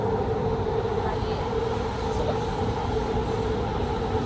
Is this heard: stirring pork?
no